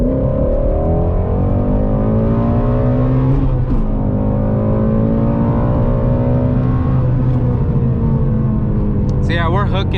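A Ford Shelby GT350 downshifts and revs, the engine pitch rising and falling through sustained harmonic drones, loud and close from inside the car, with a sharp squeak near the end.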